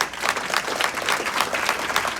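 Sustained, moderately loud applause from a crowded business presentation, many hands clapping in a continuous rippling texture throughout.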